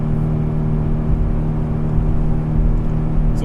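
2014 Nissan Frontier PRO 4X engine held at about 4,500 RPM while towing up a steep mountain grade, a loud, steady droning roar heard from inside the cab with no talk.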